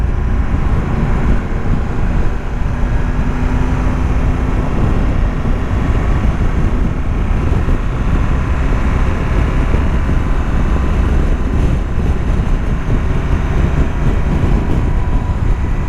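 Strong wind roars steadily across the microphone while riding a Triumph Tiger 1200 GT motorcycle, a dense, unbroken rush of low buffeting noise throughout.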